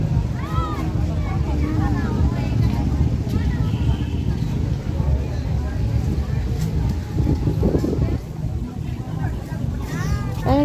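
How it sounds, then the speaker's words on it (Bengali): Boat on the Ganges river beside a riverside temple: a steady low engine drone and water wash continue throughout, with voices and chatter mixed over it. "বোটিং হচ্ছে।"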